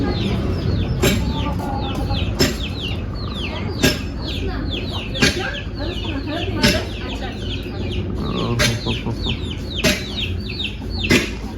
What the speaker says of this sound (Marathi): तर इथं कसं कोंबड्या आहे